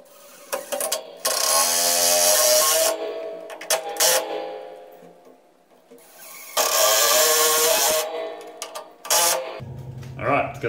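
Clamp being cranked tight on garage barrier cladding: bursts of ratcheting, clicking mechanism noise in two long stretches, separated by quieter handling sounds and brief pauses.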